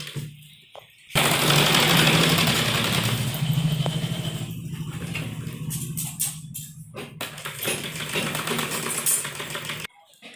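A sewing machine stitching a churidar pajama seam runs in a loud, rapid, continuous mechanical rattle for several seconds. The pace eases and breaks up near the end before it stops.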